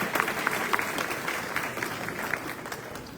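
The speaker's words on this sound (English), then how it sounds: "So let's give them a round of applause." Audience applause at a political candidate forum in a civic center, a modest, steady patter of clapping from a crowd that holds at moderate volume for a few seconds.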